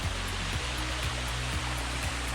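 Small waterfalls tumble over rocks along the Bruce Trail in Beaver Valley, a steady, close rush of flowing water with faint rhythmic low thumps beneath it and no talking.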